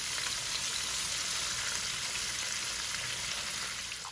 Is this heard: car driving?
no